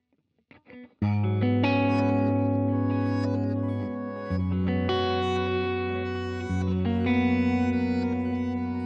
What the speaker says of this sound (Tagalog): isa sa favorite ko yung ice delay noon eh